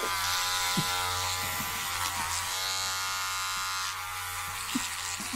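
Electric razor buzzing steadily and loudly for the whole stretch, a constant motor hum with bright harmonics and a few brief knocks and clicks along the way.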